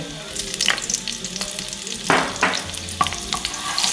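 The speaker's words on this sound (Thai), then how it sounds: "พอกระเทียมเริ่มจะเหลืองค่ะ เราก็ใส่เนยลงไปเลย" Butter melting into golden frying garlic in a pan while cooking salted potatoes, a steady close sizzle with a few sharper crackles and stirring scrapes, no voices.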